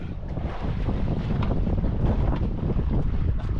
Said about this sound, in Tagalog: Malakas yung hangin mga idol